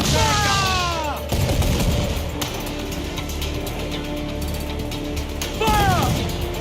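Ship cannons boom in rapid volleys during an Assassin's Creed Black Flag naval battle. Whistling shots and rattling impacts sound close and loud, and shouted voices come through between the blasts.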